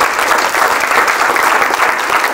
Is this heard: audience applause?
yes